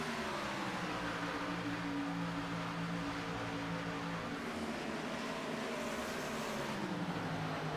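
Race car engines from a sim racing game at Charlotte Motor Speedway, a faint continuous droning whine with shifting pitch bands under steady broadband noise, lasting throughout without speech.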